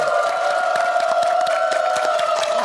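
A studio audience at a Korean KBS TV talk show claps steadily for a couple of seconds, a dense, even patter that continues alongside sustained tones.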